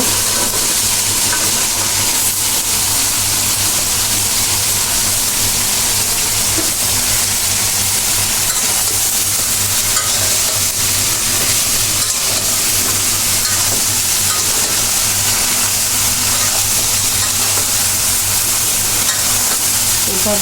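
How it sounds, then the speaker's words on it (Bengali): Vegetables tossed into a cooked spice paste and stir-fried in a pan for a Bangladeshi fish curry make a loud, constant sizzle and hiss with occasional stirring scrapes throughout. "এখন আমি সবজিটা ঢেলে দিব সবজিটা কষাই নেব"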